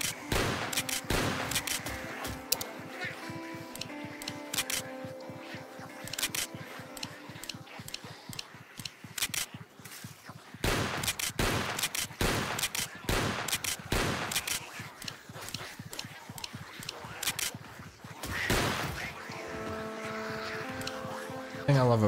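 Shotgun and handgun fire from a zombie survival video game set in a frozen winter, with bursts of rapid, sharp shots coming in clusters at steady loudness and some quieter gaps between them.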